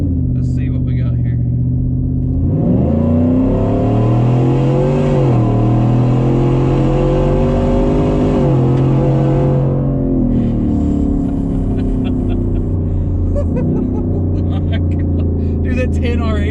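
A modified work truck making over 600 horsepower, with a 10R80 transmission and a loud exhaust, idles deeply, then revs hard in a long surging roar that rises and falls before settling back, heard close with a voice talking over the engine.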